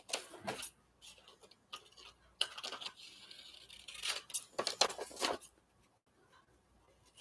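Scissors snipping white paper layers for a journal project, a series of quiet, close, crisp cuts in irregular bursts with brief pauses between them.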